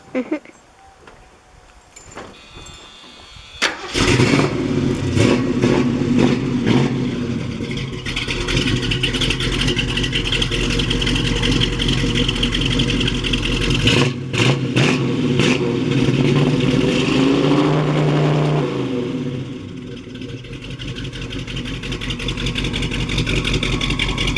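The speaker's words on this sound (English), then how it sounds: "I'll give it a start. Rev it up a little bit." A 1971 Ford Mustang Mach 1 engine cranks and fires after a few seconds of quiet, then runs loud and close with a deep rumble, rising in several revs before settling toward idle.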